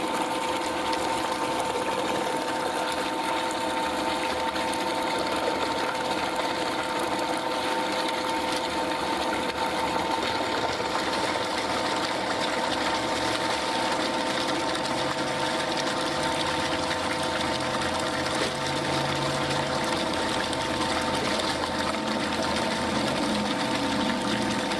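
A pump runs continuously to recirculate a persulfox remediation mixture, making a steady mechanical hum with a watery, gushing churn. It is loud and unbroken throughout, with no speech.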